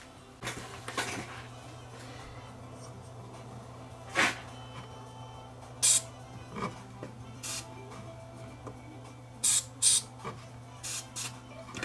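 An aerosol can of contact cleaner on a portable TV's brightness and contrast controls gives a series of short sharp sprays, about a dozen brief bursts spread irregularly over quiet background hum, the can running nearly empty.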